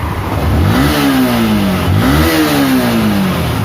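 A Yamaha R15 motorcycle engine, just serviced with its ECU reset, revs hard twice in quick succession, each rising pitch sweep climbing and falling back, loud and close with no talk.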